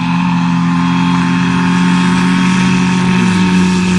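A 1998 Ford Taurus and a 1.6-litre Nissan 200SX race side by side, giving a loud, steady engine drone with strong harmonics that climbs in pitch near the end, with no talking.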